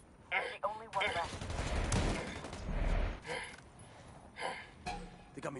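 Gunfire crackles in a war game firefight, several bursts and single shots at moderate distance, interleaved with radio-style voices talking between the volleys.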